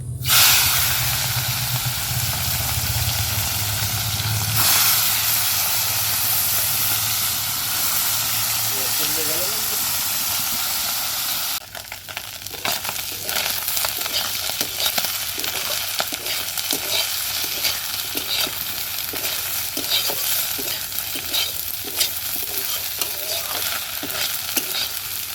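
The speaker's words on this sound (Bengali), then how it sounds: "এবার মাছগুলো ভেজে নেব।" Puti fish fry in oil, giving a loud, close hiss and sizzle. Partway through it drops to a gentler bubbling crackle with rhythmic stirring or spatula scrapes. A voice is briefly heard.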